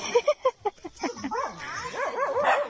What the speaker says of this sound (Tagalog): Ang ingay niya aso.